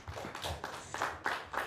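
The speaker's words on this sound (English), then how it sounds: "Please give them a round of applause." Scattered applause from a small audience at a summit session, a few uneven bursts of claps at moderate distance, fairly quiet.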